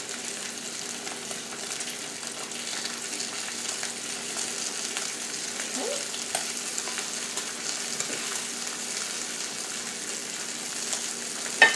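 Sausage sizzles and fries steadily in a pan, a continuous close crackle with a few soft spatula stirs and scrapes, no voices.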